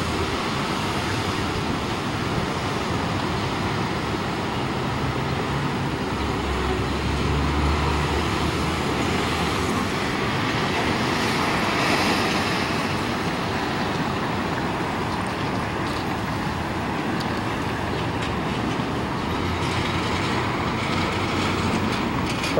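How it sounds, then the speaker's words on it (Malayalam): Steady rail rumble and traffic noise fill Van Ness Center metro station near its escalator, a continuous moderately loud wash with no clear breaks and no talking. "ഇതാണ് വാനസ് സെൻ്റർ മെട്രോ സ്റ്റേഷൻ"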